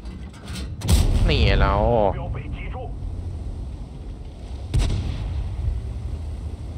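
Tank cannon fire in a World of Tanks battle: a heavy booming shot under speech near the start, then a second loud blast a few seconds later, with game background noise between.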